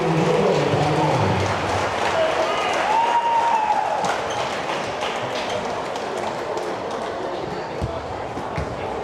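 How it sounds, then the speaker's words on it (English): Crowd applause at a high school girls' basketball senior night in a gym honoring senior players and their parents, steady broad clapping with cheering voices, fairly loud throughout. "Let's give all the students and their parents one more round of applause"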